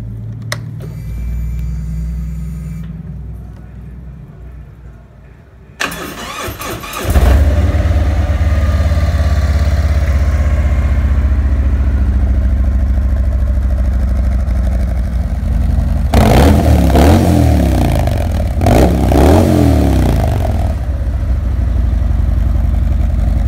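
A Harley-Davidson Milwaukee-Eight motorcycle with stock headers and Screaming Eagle slip-on mufflers cranks and fires up close, settling into a loud, deep, lumpy idle, then blips the throttle twice in sharp revs before dropping back to idle.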